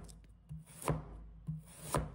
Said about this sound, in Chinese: 先把它切成片